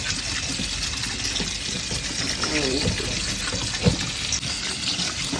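Cold water gushes steadily from a tap into a pot for several seconds, a constant rushing splash with a brief clunk near the end.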